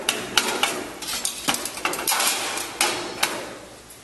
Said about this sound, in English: you must first take out your grate for the fryer. To do that, just lift it up